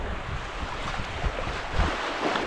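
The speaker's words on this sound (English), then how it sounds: "Waves are tripping him out." Ocean waves surge and wash against a rocky shoreline at a fishing spot, a steady rushing roar with a few heavier low thumps of breaking water amid gusty wind noise on the microphone.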